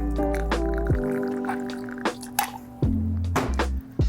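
Vodka for a lemon drop martini pours into a measure in a few short glugs and drips, close and fairly quiet, with small clinks between.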